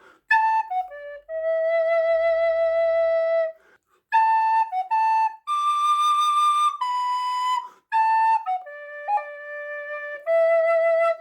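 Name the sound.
descant recorder playing a melody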